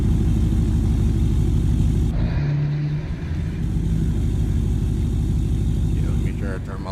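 A loud Ford F-350 truck engine in Farming Simulator 25 rumbles steadily close up throughout, with a brief higher whine partway through and a voice talking over it.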